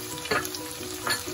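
Chopped garlic and green chili fry in desi ghee and yellow butter with whole spices, making a steady close sizzle with a couple of soft stirring scrapes.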